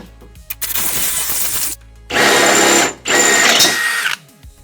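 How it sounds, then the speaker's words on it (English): A power drill with a 3/8 bit whines loudly in two sustained bursts with a short pause between, after a softer stretch of rattling and grinding, while drilling for a rear tow hook on a 2019-2024 Camaro. "Now I'm going to finish drilling the rest of the way through with a 3/8 bit."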